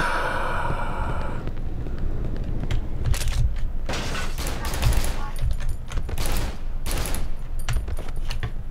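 Gunshots in the horror game Cry of Fear sound as a string of sharp, separate cracks at uneven intervals over dull ambient noise, some spaced closely together. A voice is briefly heard at the start.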